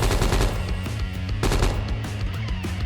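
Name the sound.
full automatic gunfire from a video game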